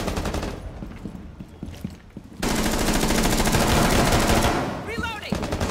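Rapid automatic gunfire in Rainbow Six Siege, a loud sustained burst of shots following quieter scattered firing, with a brief voice near the end.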